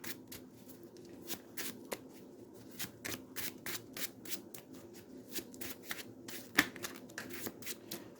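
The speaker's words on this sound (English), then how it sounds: "We will shuffle our deck." A deck of Marvel Champions game cards being shuffled at a table, a quick run of riffling and sliding bursts with a sharp tap near the end, close and fairly quiet, no talking.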